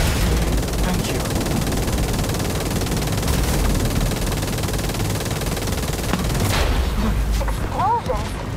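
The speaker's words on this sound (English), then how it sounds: "Explosion? What the hell?" Dense gunfire and explosions from a firefight in the video game The Division 2, a loud continuous barrage of shots and booms filling the whole stretch, with a voice speaking briefly near the end.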